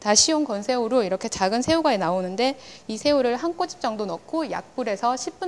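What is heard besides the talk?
None of the usual background noises is heard.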